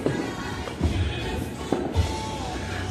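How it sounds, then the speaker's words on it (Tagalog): Neighbours' fireworks pop and thud at a distance over a steady noisy background, with a few separate sharp bangs spread across the span. "sisindihan na ang fireworks ang aming kapitbahay"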